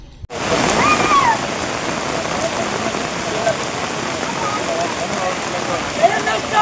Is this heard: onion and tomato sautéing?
no